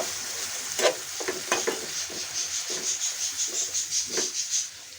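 Pangas fish masala with chili powder being stirred in a pan: repeated scraping strokes under a steady sizzle, with rhythmic stirring pulses in the second half.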